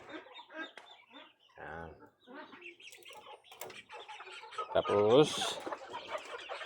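A mixed brood of young chicks, two to three weeks old and around forty birds, with Black Muscovy ducklings among them, peeping and calling in a few short bursts while someone talks nearby.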